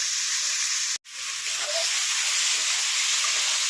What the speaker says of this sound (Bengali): মশলা কষানো হয়ে গেছে, কচুর শাক ফুলটা দিয়ে দেবো।